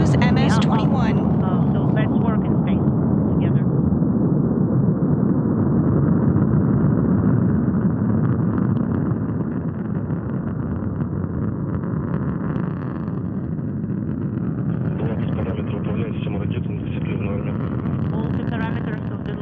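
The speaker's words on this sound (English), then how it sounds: "Liftoff of the Soyuz MS-21." A deep, continuous roar from a Soyuz rocket lifting off rumbles steadily, broad and powerful, with a faint commentator's voice over it.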